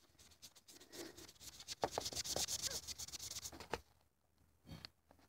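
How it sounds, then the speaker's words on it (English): Close, soft rubbing and scratching on a toy horse with a chalkboard surface, as chalk drawing is wiped off. The rapid, uneven strokes run for a few seconds, then stop, leaving near-quiet with a faint brief scrape at the end. "Then to get it off, just rub it with this."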